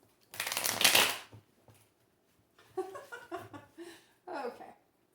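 Tarot card deck shuffled by hand, one brisk riffling burst about a second long, followed by a soft laugh and a few quiet spoken words.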